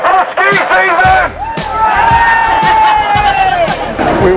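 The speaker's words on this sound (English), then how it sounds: "Can I get a cheer for the ski season?" A crowd at a street march for a longer ski season cheers and whoops loudly, with a close voice shouting over the cheers and a lively hubbub around.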